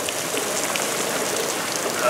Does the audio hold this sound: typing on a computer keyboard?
no